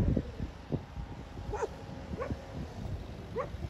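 Three or four stray dogs roaming near the sea give scattered short barks and yips at intervals over a continuous outdoor background, fairly close but not loud.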